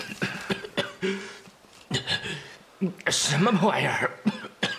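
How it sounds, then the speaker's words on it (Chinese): A person coughs repeatedly in harsh, short bursts, mixed with throat clearing and strained vocal sounds. A voice also speaks between the coughs. "你看我这是怎么回事啊？咳嗽老不停"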